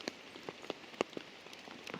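Rain falls outdoors in the countryside, with individual drops tapping irregularly and sharply on a hard surface close by, some hits louder than others, over a soft steady patter.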